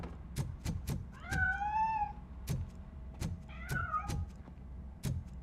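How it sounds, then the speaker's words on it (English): A cat in the video game RoboCop: Rogue City meows twice with drawn-out, wavering cries, set among several sharp thuds and knocks over a quiet room tone. "That cat must be hiding inside."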